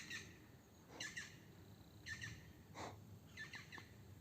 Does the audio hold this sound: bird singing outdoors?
yes